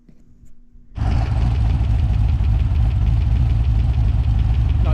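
A homemade supercar's engine starts up after a second of quiet and settles into a loud, steady idle, its low rumble close and constant for the rest of the clip, with a faint knocking texture.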